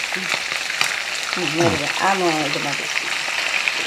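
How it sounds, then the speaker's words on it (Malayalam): Sardines sizzle and fry steadily in a pan for pickle, a dense continuous crackle with faint stirring, while a voice talks over it. "ഇപ്പോൾ ഒന്ന് വറക്കട്ടെ ഫ്രൈ ആവട്ടെ"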